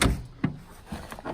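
An ARB drawer in a 2018 GX Toyota Land Cruiser camping fit-out slides open with a short rumbling slide and a soft thud, close by and fairly quiet with no talk.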